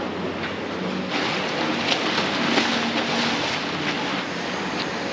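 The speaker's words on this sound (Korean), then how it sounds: "저 보트가 들어오고 있어서." Steady broadband rushing of water and wind with a low motor hum as a boat comes into a harbor in Lagos, Portugal.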